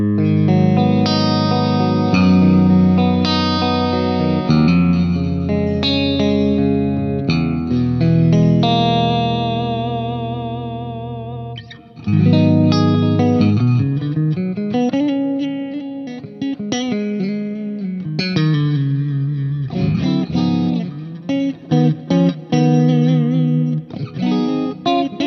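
Electric guitar played through a Neural DSP Quad Cortex on a Fender Princeton amp model, with sustained chords and melodic lines, chorus-like shimmer and mild drive, clean and close, alone without talking.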